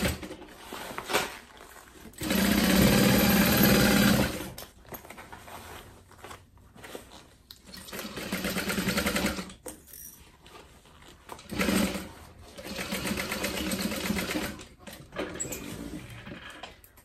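Sewing machine stitching a seam around a curve on a zip tote bag, several bursts of close, moderately loud stitching separated by short pauses as the fabric is turned.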